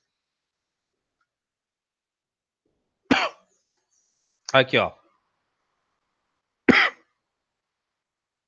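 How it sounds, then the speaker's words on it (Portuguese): Three separate short coughs spaced a second or so apart, close and fairly loud, with silence between them. "eu tive que pausar para tossir"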